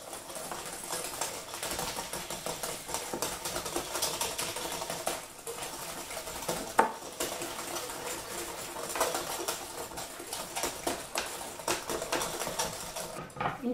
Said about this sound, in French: Je vais fouetter.